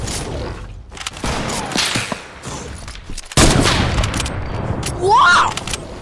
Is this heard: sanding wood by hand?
no